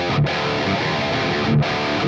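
Electric guitar played on the neck pickup through a drive pedal and an amp emulation tuned for heavy metal tones gives a thick, saturated, sustained distorted tone with a couple of brief dips between strums.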